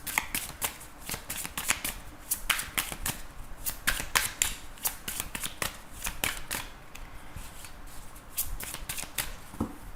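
A deck of tarot cards is shuffled up close, a continuous flurry of crisp paper riffles and soft slaps, fairly quiet, with no talking.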